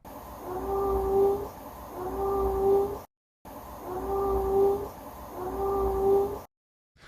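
A content cat holding a comfort toy gives drawn-out meows that rise in pitch, about four calls heard in a row and then repeated after a short silence, fairly close and clear.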